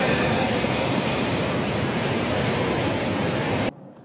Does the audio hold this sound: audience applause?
no